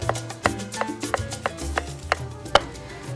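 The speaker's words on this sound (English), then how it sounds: "I will slice some portobello mushrooms" A knife slices portobello mushrooms on a cutting board, giving about nine crisp, evenly spaced chops close by, with no talking.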